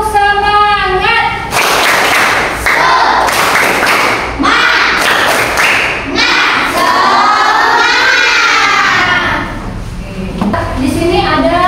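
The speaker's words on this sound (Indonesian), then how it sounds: "Tepuk semangat." Schoolchildren in a classroom perform a rhythmic spirit clap, a loud patterned sequence of claps and thumps mixed with children's chanting and shouting voices, close and energetic throughout.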